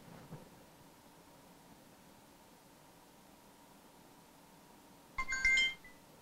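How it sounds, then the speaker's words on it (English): A BlackBerry Z10 phone sounds a short ringtone burst of bright chiming tones near the end, after a long stretch of faint room hiss. "Well, I guess that was a ringtone."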